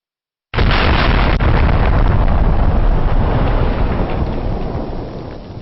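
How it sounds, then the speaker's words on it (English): Massive dynamite explosion blowing up ancient statues: a sudden enormous blast that erupts at once, then rumbles on loudly and slowly fades over several seconds. "Then there was this massive explosion."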